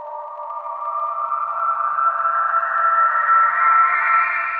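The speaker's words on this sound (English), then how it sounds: "I added and animated a bandpass filter to create specific movements that fit with my track." An electronic drone texture moves through an animated bandpass filter, its narrow resonant band sweeping steadily upward in pitch, fairly loud and alone with no other sounds.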